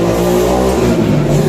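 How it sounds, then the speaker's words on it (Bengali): A motorbike roars past in front of a house, loud and close throughout, its engine note rising and falling as it goes by. "বাবা বাড়ির সামনে দিয়ে বাইক গেল, কি জোরে আওয়াজ করে।"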